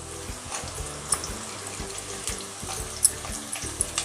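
Cashews, onions and green chillies fry in a pan for a prawn dish. A steady, even sizzle hisses like running water, with occasional small pops and faint stirring. There is no talk.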